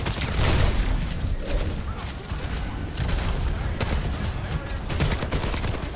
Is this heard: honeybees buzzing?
no